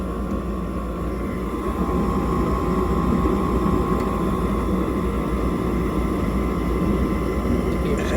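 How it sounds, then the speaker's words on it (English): A gas furnace blower running during an annual maintenance service call, giving a loud, steady, close whooshing rumble that holds constant throughout without pause. "We should be able to feel the blower, maybe even hear the blower kick on."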